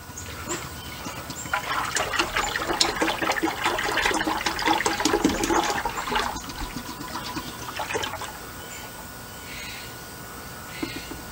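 Liquid glugs and splashes as a full container of TSP cleaning solution is poured out for cleaning a stained wood deck, the gurgling pour lasting several seconds before trailing off into drips and quiet.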